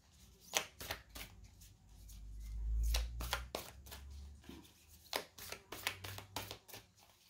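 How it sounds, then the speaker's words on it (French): Tarot cards shuffled and drawn by hand, a run of crisp, rapid riffling and flicking bursts with short pauses between them, close and fairly quiet, with no talking. "On va voir un petit peu la carte qui sort."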